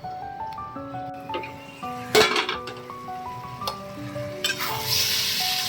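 Poppy seed paste and potatoes sizzling in a pan, a steady soft sizzle with occasional clinks and scrapes of a utensil against the pan, close and fairly quiet.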